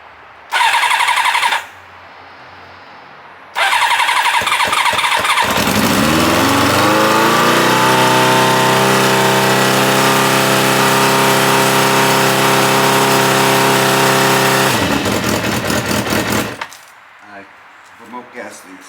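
A 1986 Kawasaki Ninja 600R motorcycle engine cranks in short bursts, then catches and runs loud and close for about ten seconds with a steady idle drone before cutting out.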